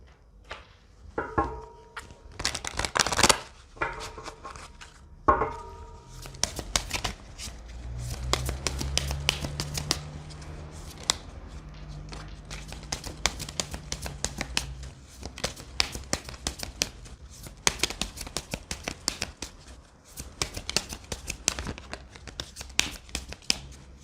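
Tarot cards being shuffled by hand in a quiet room, a steady run of soft riffling, flicking and papery slaps repeating close to the mic, with faint movement noise and no talking.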